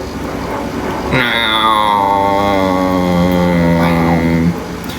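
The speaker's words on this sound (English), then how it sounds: "Some sort of plane." A plane flies over a house, a loud, even engine drone with a steady tone that rises in for about three seconds and then cuts off. A voice talks under it.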